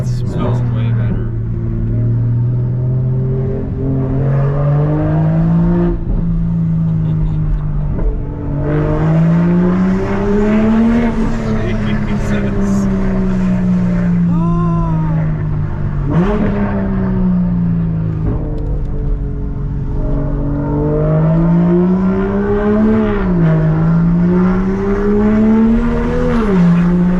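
A Toyota MK5 Supra with a B58 engine and big turbo upgrade revs and pulls hard, its pitch rising and falling through repeated loud accelerations and gear changes, close and dominant, with voices talking over parts of it.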